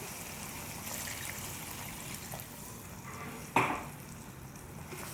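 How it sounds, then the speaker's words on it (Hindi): Water poured into a pan of chicken and okra masala with tomatoes, a soft trickling and stirring hiss with a brief louder splash near the end, close and fairly quiet, no talking. "और हम साथ ही पानी शामिल कर देंगे।"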